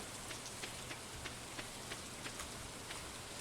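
Steady rain falls in the farming video game Stardew Valley, a soft constant patter with faint regular droplet ticks, quiet and without speech.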